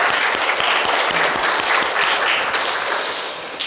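Dense applause from a congregation at a Korean church gathering, including children, steady and close for the whole stretch, with no speech over it.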